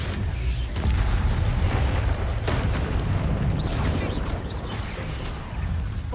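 Bombarda spell blasts in Hogwarts Legacy, deep rumbling booms and bursts layered over a dense, continuous roar with a few sharper cracks.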